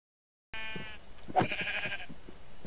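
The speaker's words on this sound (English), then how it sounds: "Guess wondering why I just murdered the sheep" A Minecraft sheep gives a short bleat followed by a second, higher bleating cry as it is killed in the game, faint and close, with a few soft thuds around the calls and no speech.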